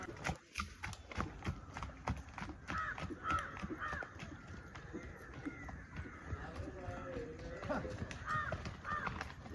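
A horse's hooves clip-clop in a quick, regular running rhythm during training in Malappuram, moderately close and steady beneath a person talking, with crows cawing in the background.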